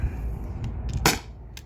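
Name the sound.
T4E HDP50 CO2 pistol firing a shot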